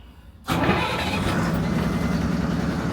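An Ashok Leyland truck diesel engine cranks and catches after brief quiet, then settles into a loud, close, rattling idle that carries on steadily.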